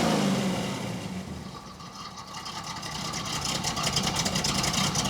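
The hopped-up engine of a 1951 Ford shoebox project car runs close by, a steady rough rumble that dips slightly and then builds again, with no talking.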